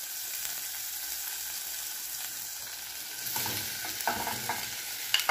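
Sausage and onion sizzle in a pan with the leftover barbecue meat, a steady quiet crackle with a few stirring scrapes near the end.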